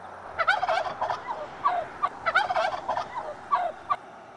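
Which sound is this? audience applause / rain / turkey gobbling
turkey gobbling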